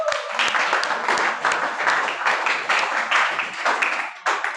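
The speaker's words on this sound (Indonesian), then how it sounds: "kita tepuk tangan untuk kita semua." A classroom of students claps together in a lively burst of applause, dense close hand claps with uneven rhythm lasting a few seconds before fading.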